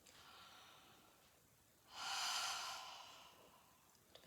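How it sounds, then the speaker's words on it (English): Someone nearby takes slow practice breaths during a breathing exercise, a soft inhale followed by a louder, longer airy exhale, with nothing else around it. "If you just take a few practice breaths in and out"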